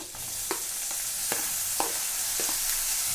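Chili and tomato dropped into a pan of hot oil, a steady close sizzle with several soft stirring knocks, no talking.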